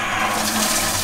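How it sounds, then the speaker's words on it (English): Fresh water pours into a home brewing setup as it is rinsed out after months unused, a steady hissing, splashing fill that runs continuously at close range without any talking. "I'm just going to fill it up with fresh water."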